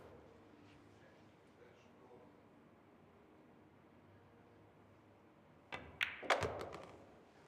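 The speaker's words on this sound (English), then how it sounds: "you can see he thumps that ball in" A pool ball is driven hard into a pocket during a professional Premier League pool match. After a long stretch of steady room noise, a cluster of sharp knocks and thuds lands close together near the end.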